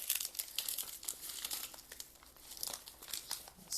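Packing tape crinkles as it is squeezed around the roots of a tropical pitcher plant during unpacking, a continuous faint crackling with small irregular bursts, close up.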